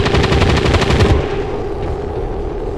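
Loud, rapid turret gunfire in XCOM 2, a fast rattling burst of shots that runs for about a second before cutting off, leaving a lingering rumble and echoing tail with no talk.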